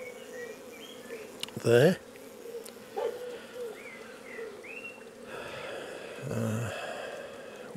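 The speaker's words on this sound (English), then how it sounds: "bees diving in and getting their heads in there" Honeybees buzz around an opened hive frame on a farm apiary, a steady close hum with a louder burst of wingbeats as bees dive in, and a voice speaks briefly.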